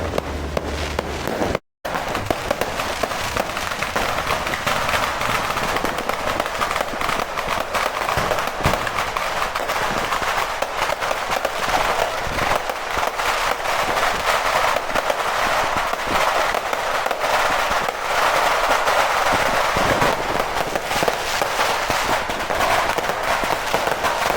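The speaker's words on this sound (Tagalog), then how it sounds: "So dito, libre yung fireworks." New Year's Eve fireworks and firecrackers burst continuously in a dense, loud barrage of crackling explosions that barely lets up, with people talking faintly underneath.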